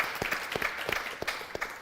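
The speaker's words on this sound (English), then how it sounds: "I think we should give Marc Morial a round of applause." An audience at a public safety community forum gives a round of applause for a former mayor, dense crowd clapping with distinct individual claps popping through, steady and moderately loud throughout.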